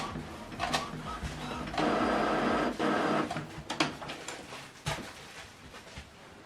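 An Epson WorkForce Pro WF-M4119DW printer runs its initialization cycle, with whirring motor runs, mechanical clicks and clunks of moving parts in uneven bursts, heard close and alone.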